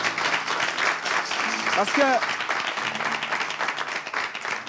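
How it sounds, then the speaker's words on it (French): A studio audience at a talent show finale claps continuously, and a voice speaks over the applause. "J'aimerais qu'on fasse un tonnerre d'applaudissements pour que les filles..."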